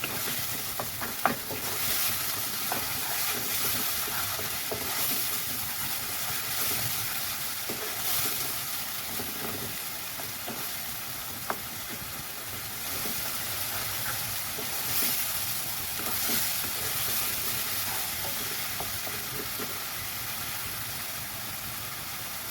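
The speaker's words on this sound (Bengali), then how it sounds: "পেঁয়াজ আর লঙ্কাটা চড়া আছে ভাজবে" Onion and green chili, salted, fry in a pan with a steady, soft sizzle and hiss that runs on evenly, broken by a few small clicks.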